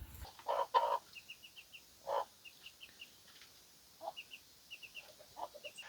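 Chickens clucking in short bursts at an off-grid homestead in Ireland, with a few louder close calls and softer ones spaced between brief quiet gaps, against faint high chirping in the background.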